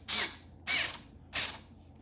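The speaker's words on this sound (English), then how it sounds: "And screw in the headlights." Headlight screws are driven into a Blade GT+ e-scooter with three short, evenly spaced bursts of a small power tool or ratcheting whir, close and fairly quiet, with brief pauses between.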